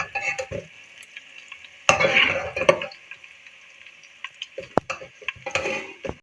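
Potatoes frying in a pan for aloo gosht curry, heard as a quiet sizzle broken by a few bursts of stirring and clinks of a utensil against the pan.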